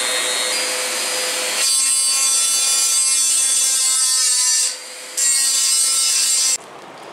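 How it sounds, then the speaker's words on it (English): A Dremel rotary tool fitted with a small grinding stone, running at medium speed and cleaning the inside of a homemade metal fire pit, gives a loud, steady high-pitched whine with abrasive grinding that pauses briefly and then resumes. "I'm gonna use a Dremel with a small rock just to clean out the inside."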